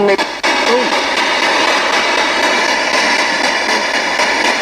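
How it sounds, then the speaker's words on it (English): Harsh, steady static from a spirit box radio hisses loudly, with rapid choppy pulses as the receiver sweeps through stations without pause. "Obviously it scans radio frequency, which creates a white noise level"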